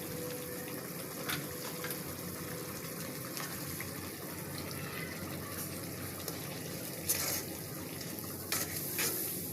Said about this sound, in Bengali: এবার ভালো করে কষাবো